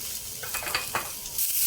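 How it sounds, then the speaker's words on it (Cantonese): Canned luncheon meat fries in oil in a flat pan over medium heat, giving a close, continuous sizzle with a few brief scraping stirs. "等佢喺個平底鑊度煎一陣。"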